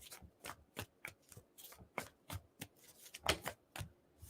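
Quick, crisp riffling and snapping of cards, a dozen or so short bursts in an uneven rhythm, close and quiet, with no voices.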